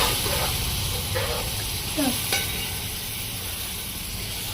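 Mint and coriander leaves stirred and frying in a pan for bagara rice, giving a steady sizzle with occasional stirring scrapes, close and moderately loud throughout.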